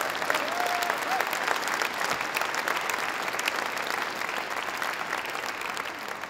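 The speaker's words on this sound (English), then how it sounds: "Let's give them a round of applause." A large audience at an awards ceremony in Rochester breaks into sustained applause, dense steady clapping lasting several seconds with a voice faintly beneath it.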